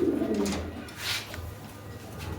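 Pigeons coo in a breeding loft, a pair already sitting on eggs; low repeated coos continue steadily through the clip, fairly close, with some soft rustling and no talking.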